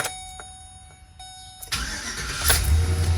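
A Chevy Express or GMC Savana van engine cranks briefly with a few clicks after starter replacement, then catches and starts, settling into a steady low rumble that swells slightly.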